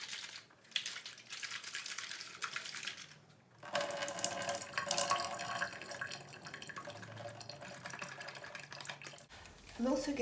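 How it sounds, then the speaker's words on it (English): Water flows into a small household garment steamer during descaling, first a thin trickle and then a fuller splashing pour, close and fairly quiet, with brief handling knocks. "I'm also going to try and fill some water through this hole and just let it sit within this for a few minutes"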